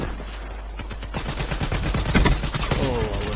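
Rapid, dense gunfire from an online multiplayer match in Call of Duty: Black Ops 3, loud and continuous bursts with overlapping shots, building to a sharp peak before tapering.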